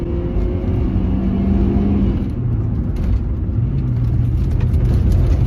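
A 2003 MG ZR 1.4 hatchback drives hard, its small engine droning and revving under a constant cabin rumble, the pitch stepping up through gears as the car accelerates, loud and close with no talk.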